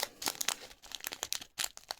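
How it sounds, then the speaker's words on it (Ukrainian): A plastic bag of small diamond painting stones is folded shut by hand, giving quick, close crinkling and rustling bursts with brief pauses between them, no voices. "можете просто загнути і закрити його канцелярською скріпочкою, і ваші камінчики вже нікуди не висапляться"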